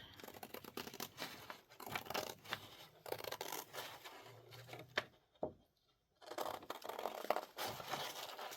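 Scissors snip and crunch through paper around a shape for a junk journal tag, close and quiet, in a dense run of cuts with a brief pause before snipping resumes.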